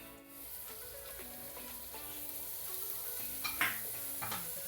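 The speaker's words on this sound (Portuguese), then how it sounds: "Vou colocar um pouco de manteiga." Butter sizzles in a hot pan as a quiet, steady frying hiss, with scattered clinks of utensils against the pan and one sharper scrape near the end.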